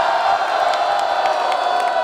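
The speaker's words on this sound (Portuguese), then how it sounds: "Muito barulho para LJR." Crowd at a rap battle event in Brazil, cheering and shouting in a dense, steady roar, loud and continuous throughout.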